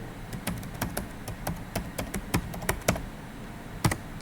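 An ID card number keyed in on a computer keyboard, a quick uneven run of crisp nearby keystrokes with one firmer final tap, no one speaking.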